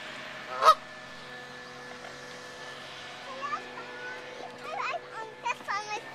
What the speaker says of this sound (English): Those are swans.